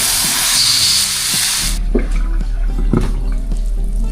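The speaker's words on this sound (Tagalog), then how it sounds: "Tapos maglagay na po tayo ng tubig." Water pours into a cooking pot of sautéed ingredients, a loud rushing splash that cuts off abruptly, leaving a low simmering hum and a few faint clinks and drips.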